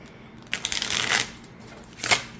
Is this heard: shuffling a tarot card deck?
yes